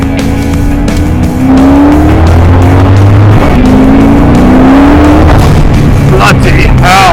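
Customised TVR Chimaera engine on maximum boost during a fast lap, loud, strained roar sweeping up through the revs with shifts between gears and a rising howl near the end, recorded from inside the car.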